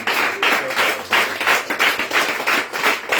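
A congregation at a prayer meeting in Yopougon applauds in praise of Jesus with brisk, rhythmic clapping in a loud, close, steady beat.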